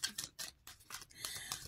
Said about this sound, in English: I am a terrible shuffler